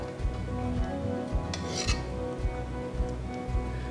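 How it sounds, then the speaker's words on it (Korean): A ladle skims foam off simmering beef broth in a pot, with repeated soft scraping and rubbing strokes against the metal in a steady rhythm over a continuous low bubbling simmer, close and moderately quiet. "거품 한번 걷고 갈게요"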